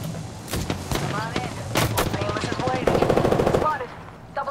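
Rapid automatic gunfire in the battle royale game Apex Legends, loud bursts of repeated shots close by, layered over a player talking.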